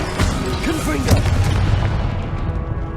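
A Confringo fire spell bursts in Hogwarts Legacy, a dense booming blast with a rolling low rumble that swells and fades over a few seconds, while voice-like tones and battle noise run underneath.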